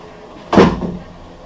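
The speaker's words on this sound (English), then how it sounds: "Had to open the door" A door being opened inside a box truck during insulation work, a single close, sharp bang-like burst with a short rattling tail, then quiet.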